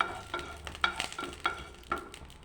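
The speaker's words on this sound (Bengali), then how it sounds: "শুকনো লঙ্কা ভেজে নিচ্ছি আগে" Dried red chillies fry in a pan with light sizzling, stirred in a few distinct scraping strokes spaced about half a second apart.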